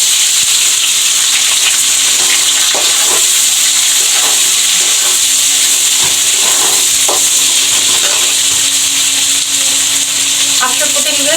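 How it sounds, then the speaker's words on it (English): Chopped onions, six to seven of them, frying in a pan for a Bihari-style egg curry, giving a loud, steady sizzle with occasional stirring scrapes and clatter, and no one speaking. "After putting this in, I will let the onion fry a little bit."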